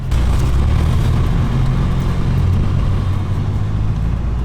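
Third-generation Honda Prelude driving over bumps in snowy conditions, with a steady loud low engine and road rumble throughout and occasional thumps from the uneven surface.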